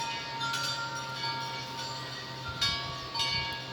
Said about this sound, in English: And definitely the wind chimes are giving us a good ring today.